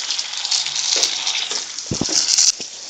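Onions and tomatoes softening in a hot pan for katakat brain masala, a steady bright sizzle with a few stirring knocks against the pan, close and continuous.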